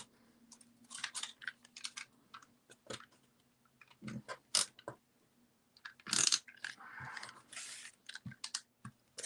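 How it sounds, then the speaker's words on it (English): Tape runner pressing adhesive onto a card piece in a papercraft sunflower fall card project, giving short dry clicks and scraping bursts at close range, irregular and quiet with pauses. "we're going to attach it in the back with my tape runner"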